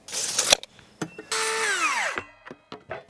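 A power drill drives fasteners through furring strips into the exterior wall of a house under construction. Short close bursts are followed by one longer whirring run that winds down, then brief taps.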